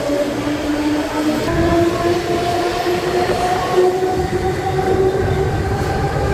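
Inside a moving passenger train, a steady loud rumble of rolling wagons is laced with sustained whining tones that shift in pitch, with no voices.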